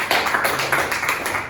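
Students in an Indonesian vocational high school class applaud together, a dense, steady patter of many hands clapping at close range for a second and a half.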